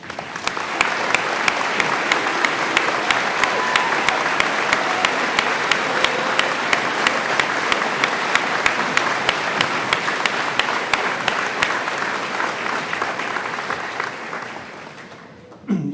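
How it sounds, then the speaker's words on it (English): Sustained applause at a 2024 Eudora High School graduation ceremony for the faculty standing, a large audience clapping steadily in a big hall for about fifteen seconds before fading out. "Please join me in applause as I ask our faculty to stand and be recognized."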